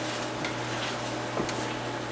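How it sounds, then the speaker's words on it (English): Sesame oil sizzles steadily in a pan, a dense hiss with a few faint clinks of stirring. "you can hear the oil sizzle up."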